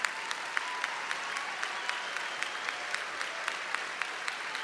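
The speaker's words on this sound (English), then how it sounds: "Applause, thank you." A large audience at the Western Conservative Summit 2013 applauds veterans and active-duty military, a fairly soft and distant wash of clapping with a faintly regular pulse running through it.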